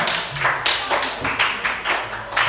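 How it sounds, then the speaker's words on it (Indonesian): A classroom group claps for a team, bursts of hand claps rising and falling in uneven waves, close and fairly loud. "Tepuk tangan untuk kelompok 3."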